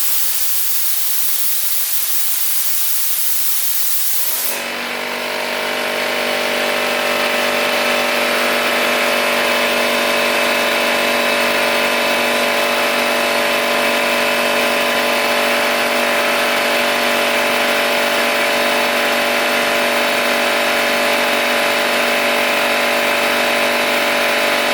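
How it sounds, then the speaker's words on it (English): A California Air Tools 10020C air compressor starts up after a few seconds and runs steadily to refill its tank, a loud continuous motor drone with a whining tone, no talk. "I think this one cuts on at like 120 just because of the small compressor size"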